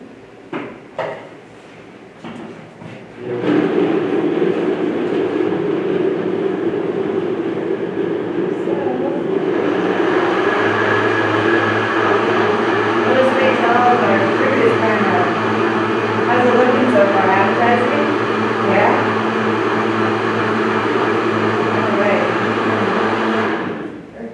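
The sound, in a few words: blender blending aqua fresca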